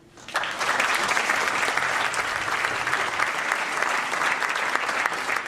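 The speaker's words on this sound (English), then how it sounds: "please, a round of applause for everyone." An award-ceremony audience applauds youth filmmakers, the clapping swelling quickly after a brief quiet moment and then holding as a dense, sustained ovation from a large crowd.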